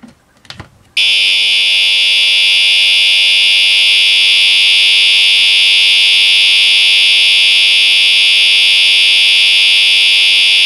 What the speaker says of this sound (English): let's start out with the test with continuous horn.